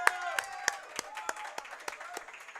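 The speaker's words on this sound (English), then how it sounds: "y'all give a big round of applause for head coach Todd Moebes joining us here tonight" A small audience at a Hornet Nation coaches show claps for head coach Todd Moebes, giving a thin, scattered patter of distinct hand claps at a steady pace, fairly faint, with a little voice underneath.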